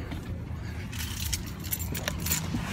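Keys jingle and a car door and seat rustle nearby as someone climbs into a vehicle, with a low rumble underneath.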